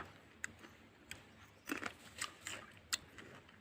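Someone eating jujube fruit outdoors at a lunch break, a few crisp bites followed by quiet irregular crunchy chewing, close but faint against a low background.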